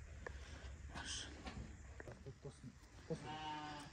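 Young rams penned for sale on a farm bleat several times at close range, mixed with snorts and shuffling and someone talking nearby.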